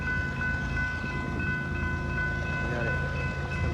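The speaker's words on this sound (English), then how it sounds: "there's another train coming" A train approaches a railroad crossing at McCord Park, rendered as a steady, loud rumbling roar with a sustained tonal hum running throughout and no voices.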